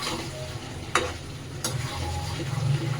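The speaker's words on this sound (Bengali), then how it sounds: "আমার এখন কাজ হলো খুন্তি নাড়ানো" A spatula keeps stirring chicken chaap meat as it fries in oil, giving a close, continuous sizzle with two sharp metallic scrapes against the pan and softer shuffling stirs between them.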